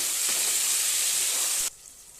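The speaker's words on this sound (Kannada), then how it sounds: "ಟೊಮೊಟೊ ಒಂಚೂರು ಹಡ್ಕೊತಾ ಇದ್ದೀನಿ ಇದನ್ನು ಚೆನ್ನಾಗಿ ಫ್ರೈ ಮಾಡ್ಕೊಬೇಕು" Tomatoes and onions fry in a pan with a steady, close hiss and sizzle that cuts off abruptly near the end, leaving faint background noise. No voices.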